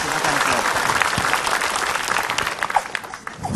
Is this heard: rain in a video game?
no